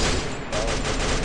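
Rapid machine gun fire in the Free Fire MAX battle royale game, a dense continuous burst with a brief dip partway through, loud and close.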